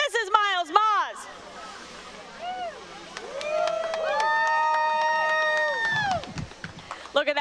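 Crowd at a motocross podium ceremony cheering for the third-place rider, loud sustained cheers and whistles rising after an announcer's voice and carrying for several seconds before talk resumes.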